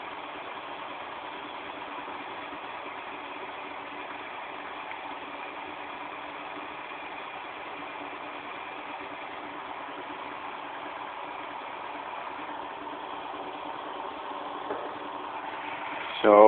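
A Newman motor replica running on a 12V, 5-watt solar panel gives off a steady, even hum with a buzzy rattle that holds unchanged. A brief louder sound comes at the very end.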